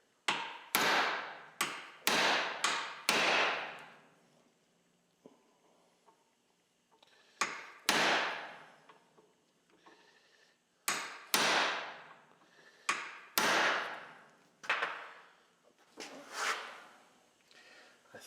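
Hammer blows on a Model TT Ford chassis part in a workshop: three bursts of sharp metallic whacks, several per burst, with short pauses and a light tap between them.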